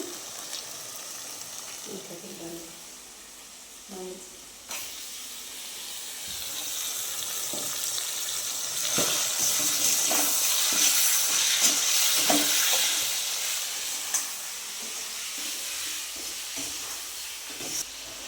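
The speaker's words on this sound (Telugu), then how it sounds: "చికెన్ ముక్కలు వేసుకుంటున్నా లెగ్ పీస్ అట్లా వేసుకుంటున్నా" Chicken leg pieces frying in hot oil with ginger and chilli: a steady sizzling hiss that swells louder midway, with scattered pops and the clink of stirring close by.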